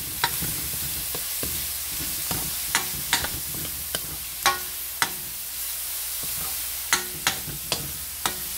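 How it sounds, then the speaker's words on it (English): Chopped garlic frying in a pan, a steady soft sizzle broken by repeated sharp clicks and scrapes of stirring, close and moderately quiet with no talking. "After which I'm going to add my chopped garlic."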